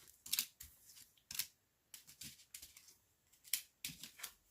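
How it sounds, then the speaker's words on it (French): Tarot cards drawn and laid down one after another for a reading, a run of soft, crisp swishes and taps in uneven bursts, close and quiet with no voices. "on va tirer 5 cartes pour les Capricornes"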